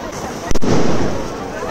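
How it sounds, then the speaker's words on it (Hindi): A single sharp firecracker bang bursts during Diwali celebrations at home, followed by a rolling, noisy echo, with people talking throughout. "को पटाखे फोड़े जा रहे हैं।"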